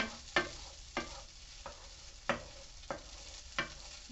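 Rice and onions are stirred in a frying pan, five or six distinct scraping strokes spaced unevenly over a faint, continuous sizzle. Close and quiet, with no voices.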